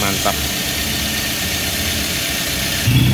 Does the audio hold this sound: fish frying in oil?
no